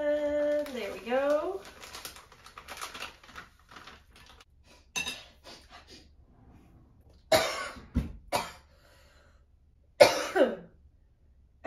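Coughing and throat clearing after inhaling flour while making mini donuts, several sharp separate bursts spaced a few seconds apart, close and loud, with brief speech-like sounds and light kitchen clinks between them.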